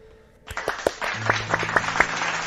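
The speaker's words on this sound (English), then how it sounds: "let's give everyone a round of applause" A burst of applause starts suddenly and continues steadily, with sharp individual claps standing out over a dense wash of clapping.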